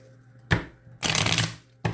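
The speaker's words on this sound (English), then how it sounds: "Let me shuffle these." Tarot cards are shuffled in two or three quick riffling bursts, close and crisp, with brief pauses between them.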